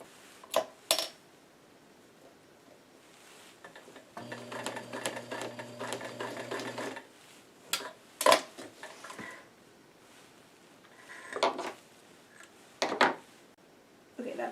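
A sewing machine stitching a newsboy cap in a quiet room, running in one close burst of rapid mechanical whirring for about three seconds, surrounded by scattered clicks and handling knocks.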